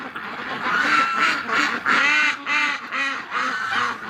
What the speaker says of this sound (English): This crew of ducks is loud.